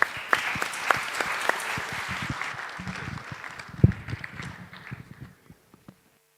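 A panel audience claps together in a loud burst of applause that thins out into scattered claps and then dies away into near silence.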